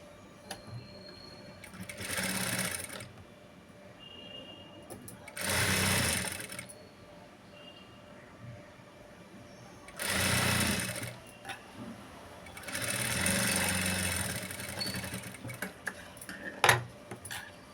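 A sewing machine stitches a blouse in four separate whirring runs of a few seconds each, with quiet handling noises and a light clack between them, close by and without talk over the stitching.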